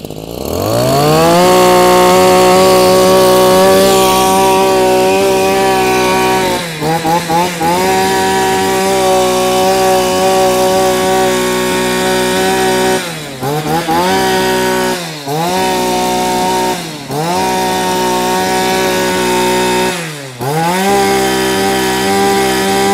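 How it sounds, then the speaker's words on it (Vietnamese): A Japanese Maruyama or Mitsubishi TL261 brush cutter engine, 32 to 38 cc class, runs loud and steady close by, its pitch dipping briefly several times as the throttle eases back. "các bác thể nghe tiếng máy của nó nhá cực kỳ rát luôn ạ"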